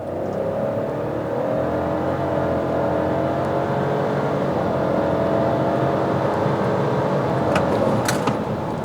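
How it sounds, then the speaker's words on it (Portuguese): A Fiat Pulse engine revs up hard from a standstill launch with the wheels spinning slightly, a loud rising drone that climbs steadily in pitch, with a couple of brief sharp clicks near the end. "vamos estolar aqui o carro novamente e você vê que patina um pouquinho a roda"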